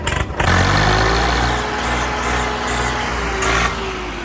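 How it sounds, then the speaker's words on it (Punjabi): A Swaraj 855 tractor engine rumbles loud and close, idling with a steady low drone and a slight rise in revs, running continuously without any voices. "ਉਹ ਟਰੈਕਟਰ ਆਇਆ ਆਪਣੇ ਕੋਲ"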